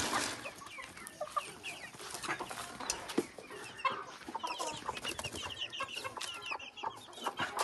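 A flock of about forty farm chickens clucks continuously, many overlapping cackles and short calls at moderate distance, fairly quiet and busy throughout with no talk.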